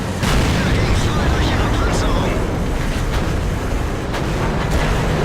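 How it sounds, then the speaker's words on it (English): A tank cannon fires at a T21 in a tank battle game, one loud boom early on within a steady rumble of engine noise and further distant shots, with narration over it. "I put a shot into the T21 to try and force him to back off"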